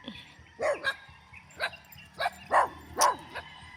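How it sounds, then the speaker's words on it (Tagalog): Several dogs barking on a farm with calamansi trees in short, irregular bursts, fairly close, with a few higher yips among the deeper barks. "Ayan, kasama mga aso."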